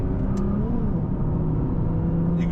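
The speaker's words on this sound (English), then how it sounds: "You can probably hear when I'm changing gear," A Nissan GT-R engine drones steadily from inside the car, its pitch dipping and shifting as it changes gear.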